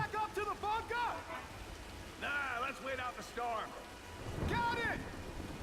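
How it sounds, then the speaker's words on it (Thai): In the video game Tomb Raider, steady rain hisses faintly in the background, with occasional rumbles, while several voices talk and shout over it. "ในเมื่อมีเสียงฝนตกแล้วก็เสียงดังแบบนี้นะครับ"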